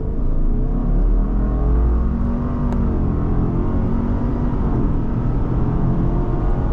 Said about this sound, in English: the first one is just going to be from idle. We're going to put in our throttle and we'll go.